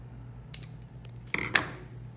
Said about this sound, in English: So I'm gonna trim my greenery.